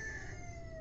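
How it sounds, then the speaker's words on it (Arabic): A rooster crows in one drawn-out, fairly faint call that holds its pitch and then slides downward, heard alone with no talking. "صوت الديك"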